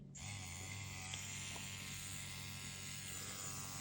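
A Dragonhawk Mast Racer Pro tattoo machine, a prototype set to hertz mode at 100 with hard torque and an 11 round liner, runs in a steady, even buzz from start to finish, close and fairly quiet, with no voices.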